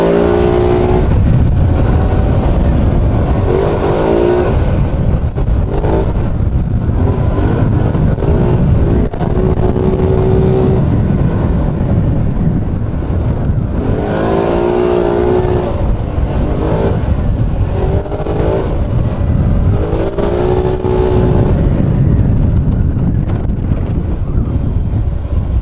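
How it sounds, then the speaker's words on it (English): A quad (ATV) engine revs repeatedly in rising surges as it drifts, heard through heavy wind buffeting on the microphone while riding near a lake. "Good drifting going on there."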